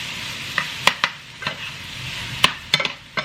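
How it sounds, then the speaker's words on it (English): Ramen noodles being stirred in a hot pan make soft scraping strokes and occasional sharp clicks of the utensil over a low frying sizzle, close and fairly quiet, with no talking. "And then we're just gonna stir."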